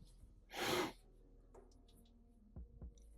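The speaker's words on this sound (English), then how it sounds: "Sorry if I'm sniffling." A single close nasal sniffle from someone drawing at a desk, a brief breathy burst followed by faint pencil scratches and small taps in an otherwise quiet room.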